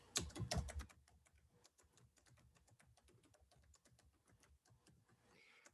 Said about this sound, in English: Let's type a quick post.